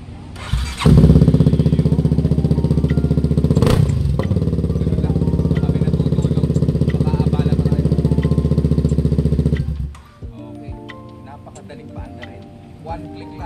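A budget big-bike motorcycle's engine idles loudly and steadily at close range with a slight rev, then cuts off near the end, leaving quiet clicks and faint background voices.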